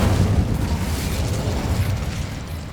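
Incendio fire spell blasts in the video game Hogwarts Legacy form a continuous dense whooshing roar with low rumbling bursts, steady and fairly loud, with no talk.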